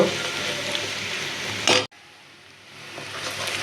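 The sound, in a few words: spice paste frying in a pan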